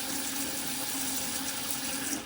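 Water rushing steadily from a household faucet just after a hot water heater replacement, a continuous close hiss of flow with no pauses.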